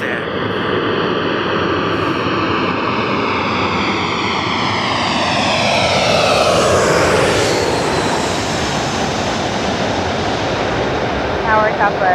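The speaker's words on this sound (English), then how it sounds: "here's the JetBlue A321 from Boston" A JetBlue Airbus A321 airliner arriving from Boston at Los Angeles International Airport roars loudly past, its engine whine sweeping downward in pitch as it passes, then a steady rush trailing off.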